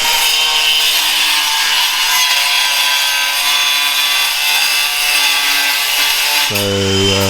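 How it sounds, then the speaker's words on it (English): A cordless angle grinder cuts on a building site during brickwork and tiling, a harsh continuous grinding whine up close that drops into a lower spinning tone near the end, with a brief spoken word. "using my nice cordless angle grinder instead of the corded ones I normally use"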